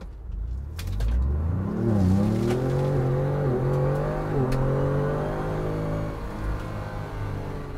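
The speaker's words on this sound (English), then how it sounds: "I want to kind of show you what the audio is like of the exhaust system" A Ford Bronco with a 2.7-liter EcoBoost and MBRP exhaust system rises into a strong, sustained roar under hard throttle, rumbling loudly and close, then eases slightly near the end.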